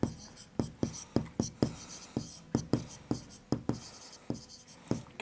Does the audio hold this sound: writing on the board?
yes